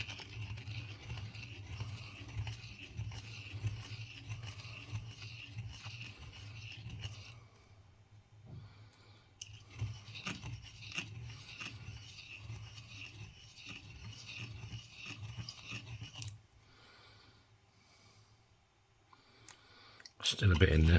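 Filing or grinding cuts away the inside edge of a copper penny ring in a steady rasping, scratchy stream, close and moderately loud, broken by a quiet pause near the end before a louder burst.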